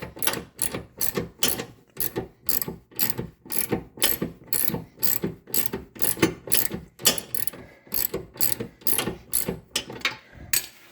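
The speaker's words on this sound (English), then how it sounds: "Ratchet, quality ratchet." A quality ratchet tightening the front lower control arm bolt on a 2007 Honda CR-V, producing a rapid series of sharp, close clicking bursts in a steady back-and-forth rhythm.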